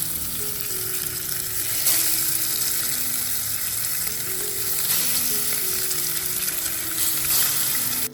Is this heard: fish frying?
yes